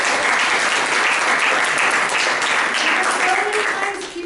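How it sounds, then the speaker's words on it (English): An audience at a goal-setting talk gives a round of applause, a loud, full burst of many people clapping that holds steady before easing off at the end, with some voices mixed in. "Let's give everybody a round of applause for being here."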